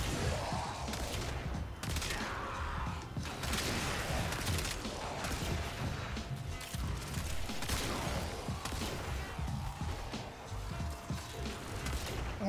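A kitgun fires in rapid, continuous bursts in a sci-fi shooter video game, a dense, loud barrage of crackling energy blasts and impacts sustained throughout with no pauses.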